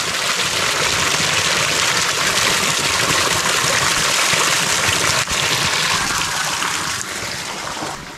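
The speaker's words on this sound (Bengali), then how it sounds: "এটা কিন্তু মানে ঝর্ণার পানি, এটা অলওয়েজ পড়তে থাকে" Water from a waterfall in Alikadam, Bangladesh rushes and splashes continuously in a steady broadband roar, close by, with no voices.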